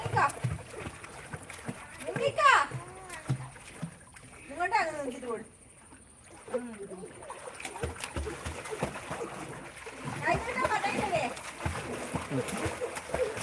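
Water splashes intermittently as a child swims in a pool during a swimming lesson, with chopping, uneven splashes mixed with children's and adults' voices talking and calling out nearby.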